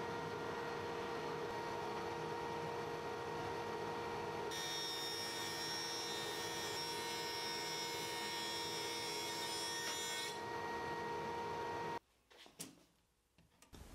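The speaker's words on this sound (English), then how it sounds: "I sent the board through the planer next for a couple of cleanup passes and final thicknessing." A wood planer makes cleanup passes on a board, a steady close whine and rush that shifts brighter partway through and then cuts off abruptly near the end.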